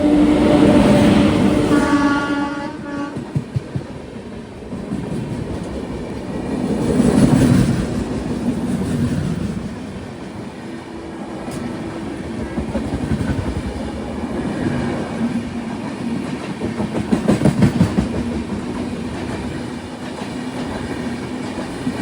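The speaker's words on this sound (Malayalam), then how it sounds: "അതിന് മുന്നേ ഇതാ ഒരു ട്രെയിൻ വരികയാണ്." An express train, the Kanyakumari–Hazrat Nizamuddin, passes near Mathura station with a loud clickety-clack of wheels over rail joints and a rolling rumble that swells and fades in waves, heard from an adjacent train.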